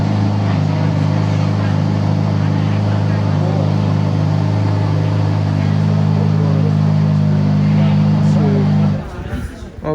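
Ferrari F8 Tributo V8 holding a loud, steady engine drone at Fiorano, continuous and close, with an abrupt drop and clatter near the end.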